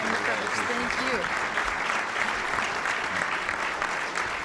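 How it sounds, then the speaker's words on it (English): Audience applause for a speaker at a National Press Club luncheon, a steady dense clapping wash filling the room with a voice faintly audible underneath. "We have a round of applause for our speaker today."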